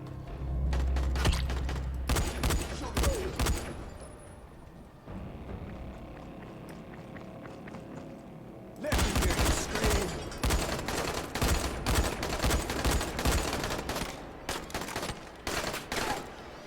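Bursts of rapid gunfire in the zombie survival game Dying Light, loud and close, with dense volleys at the start, a quieter lull with a steady hum mid-way, then heavy sustained shooting again.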